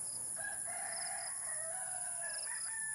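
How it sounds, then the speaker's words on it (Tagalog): A rooster crows at about 4 a.m. in San Jose, Partido, Camarines Sur, with other chickens calling too. The crows are fairly distant and drawn out, overlapping one another across a steady background of insect-like high-pitched hiss. "maririnig nyo yung mga tilaok ng manok"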